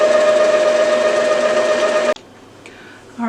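An Epson ET-2720 printer runs its loud initial setup, a steady whirring hum with a strong tonal whine that cuts off abruptly, followed by a quiet pause and a faint mechanical click.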